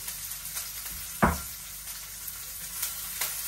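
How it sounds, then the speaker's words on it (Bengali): Onion fries in oil in a pan, sizzling steadily up close, with one sharp clunk of a stirring utensil partway through and a few lighter scrapes later on. "পেঁয়াজটা একটু ভাজা হোক, তারপরে এটা দিয়ে দিবে"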